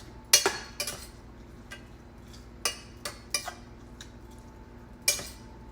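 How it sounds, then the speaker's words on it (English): Spiced cauliflower rice with coconut being stirred in a pan, a handful of sharp utensil clinks and scrapes against the pan spaced irregularly over a quiet background. "Mix that up."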